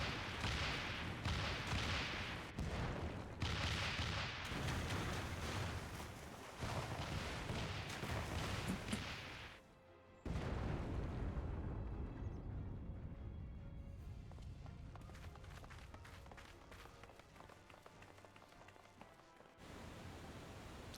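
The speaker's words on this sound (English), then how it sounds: "Can't wait to see the explosion." A heavy in-game explosion breaches the Doma Castle wall in Final Fantasy XIV, loud broadband rumbling and blasts that drop out briefly, then a long decaying roar with debris and battle noise.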